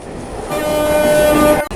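Rigaud commuter train running, a steady rumbling drone with faint tonal whines, heard from on board and continuous until a brief drop near the end.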